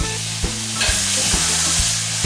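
Steaks frying in a covered pan for a green peppercorn sauce dish: a continuous close sizzle with a few soft clunks as the lid and pan are handled, and no voices.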